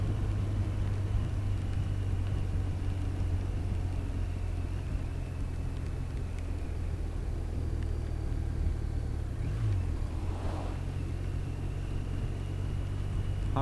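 A car creeping slowly around a bend on a rally-style road, steady low engine rumble and road noise from inside the vehicle with a brief rise in revs partway through, no talk.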